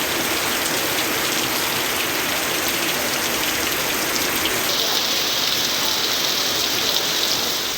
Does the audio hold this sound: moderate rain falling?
yes